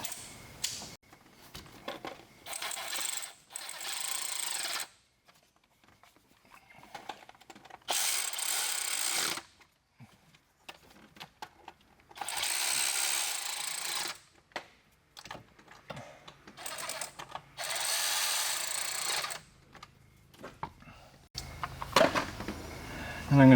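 An 8mm ratchet drives in the VCT solenoid bolts on a Ford F-150 with a 5.0L Coyote engine, clicking in several bursts of rapid ratcheting separated by short quiet gaps.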